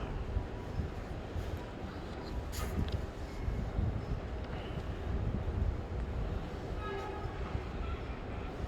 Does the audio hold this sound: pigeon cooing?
no